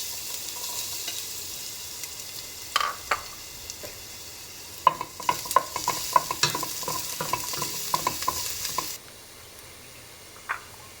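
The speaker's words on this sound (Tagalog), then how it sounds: "Magkisa na po tayo ng bawang." Garlic sautéing in a frying pan for pork and chicken adobo, with soft sizzling and clusters of spatula scrapes and stirring clicks, fairly quiet and close.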